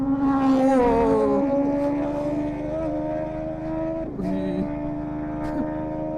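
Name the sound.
motorcycle engine exhaust beat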